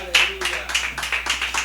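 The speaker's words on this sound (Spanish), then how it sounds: "dale un aplauso a Cristo" A church congregation breaks into applause during a Christian sermon, a short ragged run of claps close by with voices talking over it.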